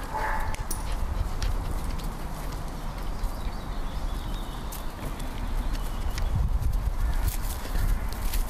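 A police shepherd dog on a search moves about close by, giving continuous scrabbling, pattering and snuffling noises at a steady, fairly loud level, without talking.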